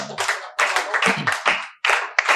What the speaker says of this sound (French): Est-ce qu'on peut m'aider à acclamer pour le Seigneur?